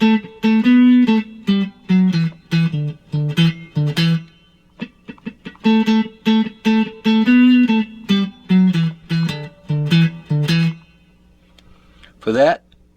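A guitar plays the bridge of a song in short rhythmic bursts of clean picked notes, close and clear, with brief gaps between phrases and a short sliding sound near the end.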